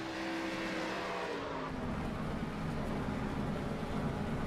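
A stock car in an Xfinity Series race at Daytona International Speedway, from a racing video game, skids through pit road with a loud engine roar, tire noise and a shifting engine drone, no talking.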